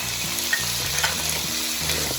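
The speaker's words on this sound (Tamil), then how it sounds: "நல்லா வறுத்து எடுத்துக்கலாம்." Small shallots and chopped ginger sizzle and fry in oil in a pan for a head-meat curry, with a steady crackling hiss and occasional scrapes of stirring close by.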